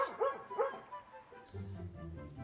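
A dog gives two yipping, whining bow-wow calls close by in a garden setting, followed by a low, steady rumbling hum.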